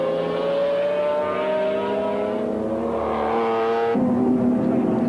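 A McLaren GT race car at Paul Ricard during a 1995 BPR Global GT Series race gives a loud, sustained engine howl that holds steady, then drops in pitch near the end, with no voices.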